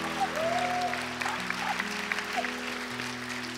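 A church congregation at an evening supernatural conference service applauds steadily after a healing testimony, with sustained sound over organ or keyboard tones held beneath.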